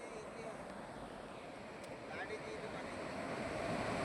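Rough surf crashes continuously on Guhagar beach, a broad wash of waves mixed with wind noise.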